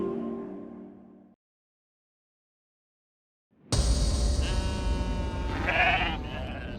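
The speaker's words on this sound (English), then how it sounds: "hearing the sound of the sheep bleating out, disturbing the silence of the night" A low bleat fades out into silence, then loud bleating returns with overlapping calls from more than one animal, fairly close.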